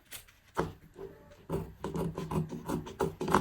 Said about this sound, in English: I'm trying to trim any excess that I have so that everything will just be aligned